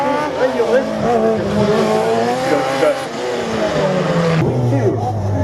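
A rally car at the Lessay 2022 slalom finale half-spins at the first chicane just after the start line, its engine revving and tyres squealing under continuous loud commentary.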